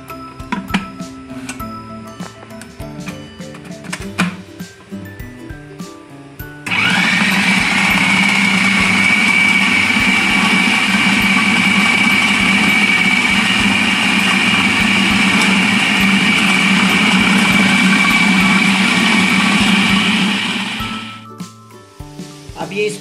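An electric chopper chopping kofta mixture starts with a sudden loud whirring drone that holds steady for about fourteen seconds before cutting off, with light kitchen clinks before and after.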